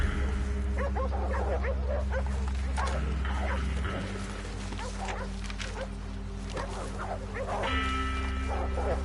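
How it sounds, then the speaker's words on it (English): Dogs bark and yip in Red Dead Redemption 2, several animals barking repeatedly at mid distance over a steady low game rumble, with some whimpering mixed in. "It's not demons. It's just dogs gone"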